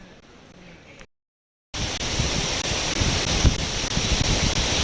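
Shenlong Waterfall in Neidong Forest National Park pours with a steady, dense, hissing roar. It breaks in after a brief silence and holds loud and constant to the end, with no voices over it.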